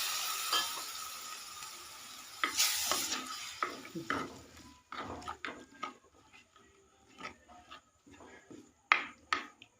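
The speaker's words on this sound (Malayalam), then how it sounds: "നമ്മൾ അതൊന്ന് ശരിക്കും ഇളക്കട്ടെ" Mackerel fish curry stirred in a pan, with soft scraping and sizzling strokes that come in irregular bursts, some louder than others, close by and with no talk.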